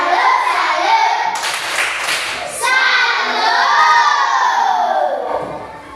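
A classroom of children performs a rhythmic clap-and-chant cheer, loud shouting voices over bursts of close hand clapping that swell and ease over several seconds.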